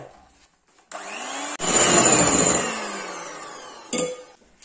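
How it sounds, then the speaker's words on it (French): An electric hand mixer whips egg whites for a strawberry tiramisu, starting with a loud, close, steady whir that rises in pitch, then cutting off and briefly restarting. "je vais monter les blancs en neige avec le batteur électrique"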